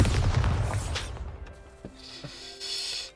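A Bombarda spell explodes in Hogwarts Legacy with a loud, close blast that rumbles and decays over about a second, followed by a few faint thuds and a quieter shimmer.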